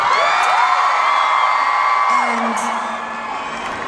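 A concert crowd in Brooklyn whooping and cheering loudly, with shouts and yells rising over the noise before it eases off; a single spoken word at the start.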